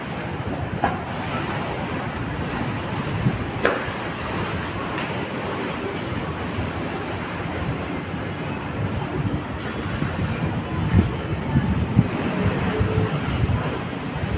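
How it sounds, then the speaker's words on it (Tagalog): Strong waves slosh and churn along the Pasig River esplanade, a continuous broad rushing wash mixed with gusty wind buffeting the microphone, with no voices. "Grabe ang lakas ng ng alon mga bayan ang lakas ng alon."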